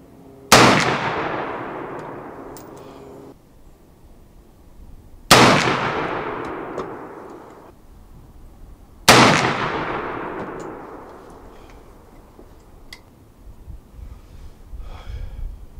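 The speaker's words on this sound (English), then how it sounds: "So after that, I just did 1 lick of the file and went back to shooting." A Civil War Smith carbine fires three loud, close shots several seconds apart, each a sharp crack trailing into a long rolling echo outdoors.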